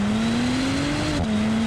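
A Bentley Continental GT W12 in sport mode holds a steady engine drone that rises slowly in pitch, then briefly dips as a gear changes and settles again, loud and continuous.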